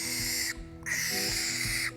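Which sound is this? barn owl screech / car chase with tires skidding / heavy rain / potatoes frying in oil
barn owl screech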